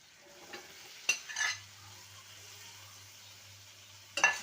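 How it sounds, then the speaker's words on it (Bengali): Fried potatoes and drumsticks being stirred into spice masala in a pan, a faint low sizzle broken by a few sharp spoon scrapes and knocks, close, no voices. "ভালো করে মশলার সাথে নেড়ে নেব"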